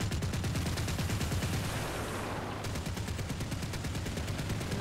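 Rapid autocannon fire from a BMP-2 in the War Thunder video game, a loud, continuous stream of closely spaced shots that stays dense and even throughout, with no voices.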